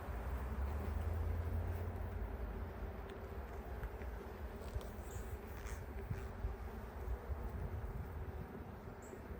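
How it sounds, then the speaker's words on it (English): Honey bees buzz at an open backyard hive as frames are inspected, a dense continuous hum close by with scattered louder passes of individual bees and no talking. "Oh, there are bees coming out."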